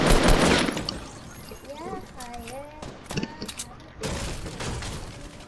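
Gunfire during a Fortnite match, a few bursts of shots at the start and near the end. People talk over the game sounds in between.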